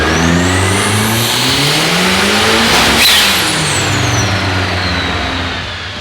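A turbocharged rear-wheel-drive Honda Civic running 22 psi of boost revs hard on a dyno, its loud engine climbing steadily in pitch over about three seconds and then easing back down.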